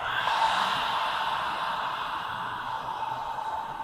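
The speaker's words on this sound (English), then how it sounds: "You have to hear the sound here because this is Ujjayi breathing" A long, steady ujjayi breathing exhale with a soft hiss, continuous and fairly close, fading slightly toward the end with no talking.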